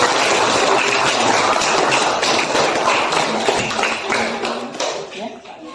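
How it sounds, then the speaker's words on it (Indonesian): An audience in a classroom applauds after a group presentation, a steady wash of many hands clapping that fades out near the end, with voices mixed in. "Kita beri aplaus semua."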